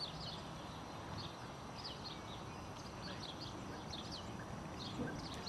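Starlings in a British park give short, faint whistling and chirping calls in repeated bursts over a constant hiss of outdoor ambience.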